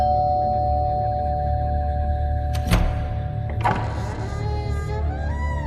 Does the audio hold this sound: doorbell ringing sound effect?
yes